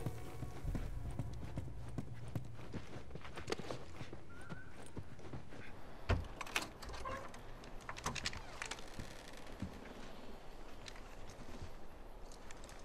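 Horse hooves clip-clop steadily in The Last of Us Remastered amid busy, noisy background clatter, moderately close and continuing throughout.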